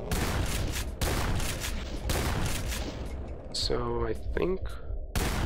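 A super shotgun firing in the Doom Chemical.wad mod, heavy blasts landing roughly once a second. A short pause follows as someone speaks briefly, then another loud blast closes the moment.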